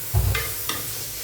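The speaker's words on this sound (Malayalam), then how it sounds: "അപ്പോൾ അതിട്ട് ഇത് നമുക്ക് നല്ല ഇളക്കാം." Kashmiri chili powder frying in a pan for vegetable biryani is stirred with a spoon: a couple of scraping strokes over a soft, steady sizzle.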